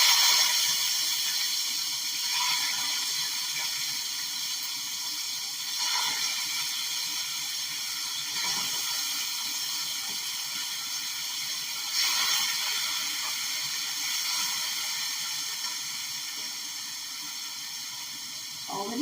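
Meat frying in a hot pot for a home-cooked Sunday dinner, giving a steady sizzling hiss throughout with faint surges of crackle.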